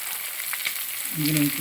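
Chopped onion frying in a pan of oil, a faint soft sizzle with light stirring scrapes, close up and quiet, no talk.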